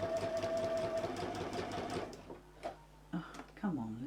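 A small sewing machine stitches fabric in a fast, steady mechanical run for about two seconds, then stops, and a nearby voice talks afterward.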